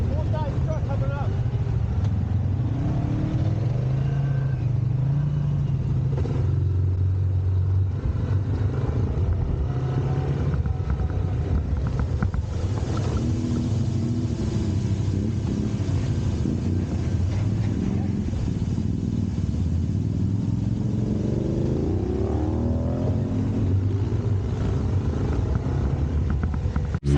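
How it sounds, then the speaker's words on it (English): A full-size Nissan Titan truck climbs a rocky off-road trail, its engine a low, steady rumble from a distance, heavily mixed with wind buffeting the microphone throughout. "Got truck, full-size truck coming up."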